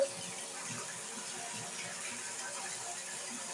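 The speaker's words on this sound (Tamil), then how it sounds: "நீர் மழை பொழிகிறது, தண்ணி மழை பொழிகிறது." Steady running water pours and splashes continuously like rain, a close, even hiss with faint clinks, with no voices.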